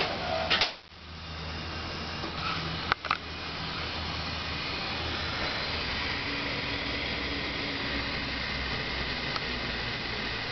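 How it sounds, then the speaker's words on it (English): A Chennic DC to DC converter, one of a dual pair installed in a vehicle, hisses steadily while loaded by the headlights. A couple of sharp clicks come near the start, then the broad, even hiss settles in close and continuous. "a very pronounced hissing coming from this thing now that it's having to work a little harder"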